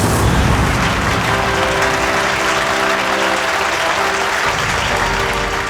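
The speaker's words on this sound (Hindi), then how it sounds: "ऑडियंस इसलिए तालियां बजा रही है" Steady, dense applause from a theater audience at a magic show, loud and continuous throughout with no pauses.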